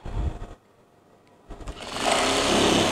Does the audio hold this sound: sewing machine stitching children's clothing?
yes